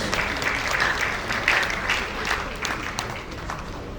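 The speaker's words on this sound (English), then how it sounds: "Please, can you give us a round of applause?" Audience applause at a surveyors' association luncheon in Lagos, a continuous dense patter of many hands clapping at a steady level throughout.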